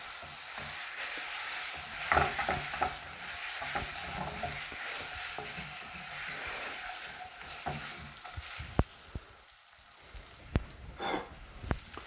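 Pasta with tomatoes, chilli and garlic stirred in a pot, a soft steady sizzle with scattered scraping and clinking strokes of the utensil, close by, ending in a few sharper knocks.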